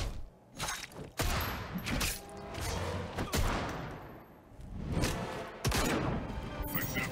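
Deadshot's super move in Injustice 2 unleashes repeated loud bursts of gunfire and impacts in quick volleys, close and punchy, with brief game effects between shots.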